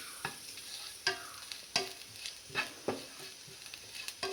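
Grated coconut fries in a pan until it browns, with a quiet sizzle under regular scraping strokes of a spoon, about one every half second to second.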